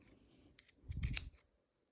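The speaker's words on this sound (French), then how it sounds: "moi j'utilise mes ciseaux cranteurs ici au niveau de l'arrondi" Pinking shears snip through fabric along a curved edge, a short cluster of two or three crisp, close metallic cuts over a quiet room, with no talk.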